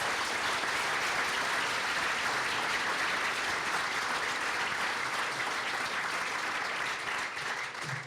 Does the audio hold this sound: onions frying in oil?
no